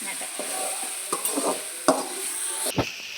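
Salt being stirred into cooked beef for biryani in a pot, a spoon scraping and clinking against the metal a few times over a soft, steady sizzle.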